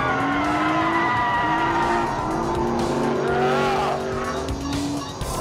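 Loud, sustained tire squeals from a Nissan Skyline GT-R sliding on a track lap, high screeching tones over a roaring engine, continuous and close.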